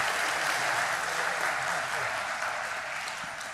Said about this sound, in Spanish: A mí me gustaría que le aplaudan, ¿no?, que este auditorio se escuche el sonido